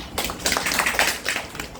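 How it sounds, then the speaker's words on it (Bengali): Quick burst of applause from a small group for a correct quiz answer, dense irregular claps close by, steady for under two seconds with no talking. "অসাধারণ হাততালি"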